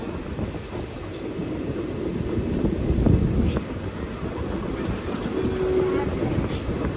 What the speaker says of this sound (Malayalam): ട്രെയിൻ അങ്ങനെ കോട്ടിക്കുളം റെയിൽവേ സ്റ്റേഷനിലേക്ക് എത്തിക്കൊണ്ടിരിക്കുകയാണ്.